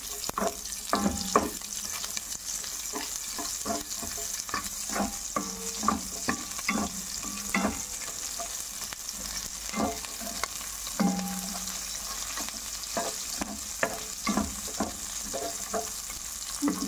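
Onion sautéed with browned garlic in a pan for a simple vegetable dish, a continuous sizzle broken by frequent scraping stirs of the spatula, close and steady.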